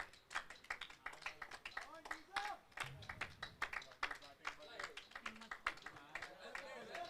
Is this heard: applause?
yes